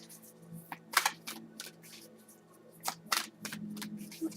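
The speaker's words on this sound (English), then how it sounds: "These are hard to shuffle." A deck of cards being shuffled by hand, with quiet riffling bursts and flicks arriving in irregular clusters, fairly faint and close, with no voices.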